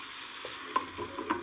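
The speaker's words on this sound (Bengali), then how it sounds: "এবার আমি মশলার সাথে কুদ্রিটাকে নেড়ে চেড়ে ভেজে নেব" Ivy gourd (kundru) stir-fried with spices in a pan gives a soft continuous sizzle, with a few faint scrapes and taps of a spatula stirring, quiet and without voices.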